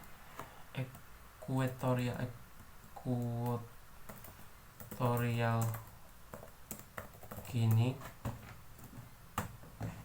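Someone types a country name on a computer keyboard, with quick bursts of light key clicks scattered between stretches of a person talking.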